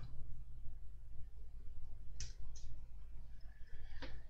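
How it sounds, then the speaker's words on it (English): Sprue cutters snipping plastic model parts off a sprue, giving a few sharp, quiet clicks spread over a few seconds against a low background hum, with no talking. "I'm going to need to bring over my sprue cutters, because we've got these parts here on a sprue and we need to cut them off basically"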